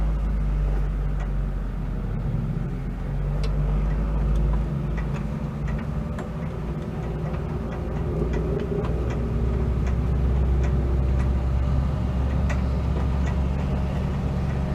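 A 1975 Mitsubishi Colt 1400 Delica minibus engine hums and drones steadily as the van pulls away, with light ticking and cabin rattles over the low engine note.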